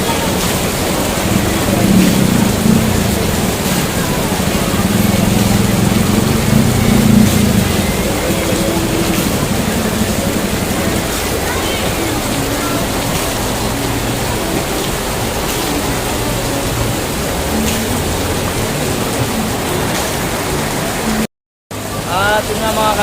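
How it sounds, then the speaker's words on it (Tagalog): Heavy rain pours steadily outdoors for a long stretch, a dense, loud hiss of drops on surfaces, with murmured voices and a brief dropout near the end. "malakas ang ulan. Nababasa tayo."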